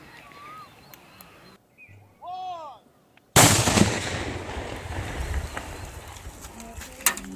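A bomb squad detonates a cache of seized crude bombs in Nanoor, Birbhum, West Bengal: after quiet outdoor ambience with chirping birds comes one sudden loud blast, followed by a long rumbling roar that fades unevenly.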